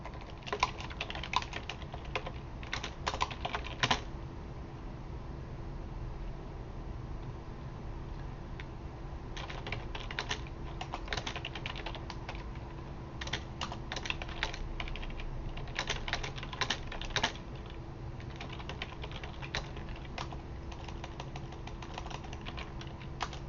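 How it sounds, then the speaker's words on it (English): Rapid bursts of keystrokes on a computer keyboard while coding AI for a game, close and fairly quiet over a steady low hum, with pauses between runs of typing. "I think you might be typing off the screen."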